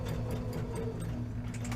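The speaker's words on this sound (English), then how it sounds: "I am sewing." A home sewing machine stitches a fabric tote bag, its motor giving a steady, even mechanical hum with a fast repetitive needle rhythm, close and alone without talk.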